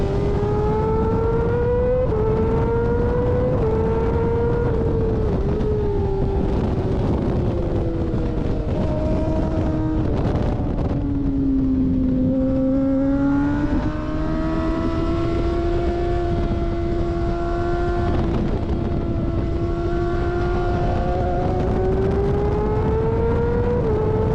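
Race car lapping a circuit during an A group bump evaluation, its engine droning loudly and continuously from inside the car, pitch rising and falling through gear changes and corners, with heavy wind rumble throughout and no talking.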